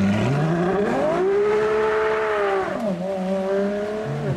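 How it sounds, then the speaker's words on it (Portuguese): A BMW power-slides through a street drift, its engine wailing in a steady high rev that dips and climbs again while the tires squeal continuously close by, loud and without talk. "Foi o power, meio que o power slide ali"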